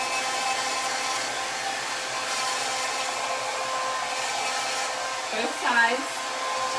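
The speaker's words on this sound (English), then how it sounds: "we're going to blow dry this really quick" A hair dryer blows steadily on a sticky craft piece being upcycled, a loud continuous whoosh with a brief voice over it near the end.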